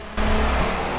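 Engine of a Hennessey VelociRaptor 6x6 in the video game Forza Horizon 4 surges in loudly after a brief quieter moment, holding a steady, rough drone.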